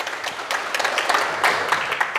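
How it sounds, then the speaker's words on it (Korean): Audience applause at a Sunday lecture, a steady wash of many hands clapping with scattered sharper claps, moderately loud and continuous, with no voices over it. "자, 큰 박수 부탁드립니다."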